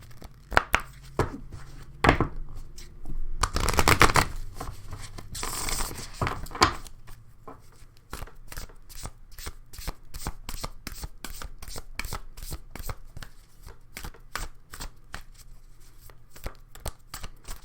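Cards are shuffled with a burst of riffling and fluttering, then a long run of soft, rapid clicks and snaps at close range.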